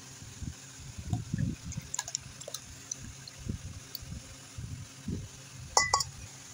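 Tamarind water being worked by hand in a bowl, giving soft wet squelches and sloshes in irregular bursts, with a few light clinks near the end, close and fairly quiet with no talking.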